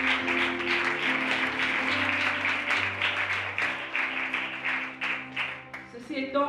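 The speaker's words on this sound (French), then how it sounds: "Est-ce que nous pouvons la raccompagner avec des acclamations" Congregation at a French church service applauds and cheers a woman returning with a chair, with sustained clapping over a held musical chord and some voices, tapering at the end.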